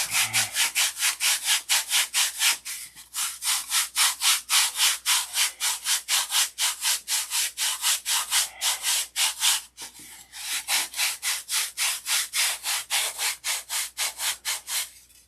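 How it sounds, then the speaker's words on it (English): Rapid back-and-forth sanding strokes rub across the wooden stabilizer of a Sig Magnum model airplane, a steady close scratching rhythm with two brief pauses between runs of strokes. "So this will sand really quick."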